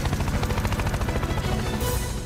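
Cartoon robot switching into helicopter mode, a fast rapid thudding of rotor blades mixed with whirring machinery, loud and close with a hissing burst at the end.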